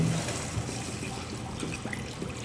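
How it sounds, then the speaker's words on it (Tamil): Water poured steadily into a cooking pot of Ramadan nombu kanji rice porridge, a soft continuous liquid stream close by with no talking. "ஸோ கொஞ்சம் தண்ணி ஊற்றிக்கிறோம்."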